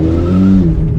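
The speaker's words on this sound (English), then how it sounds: "All of that noise you hear is just top end and tire spinning" A Ford Focus ST with a bigger turbo screams at the top of its rev range with its tires spinning, making a loud, steady droning engine roar close by.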